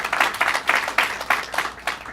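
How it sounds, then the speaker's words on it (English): Audience applause at a citizenship phonebank event, heard as a short, fairly close run of rhythmic clapping with no voices over it. "Let's give him a round of applause"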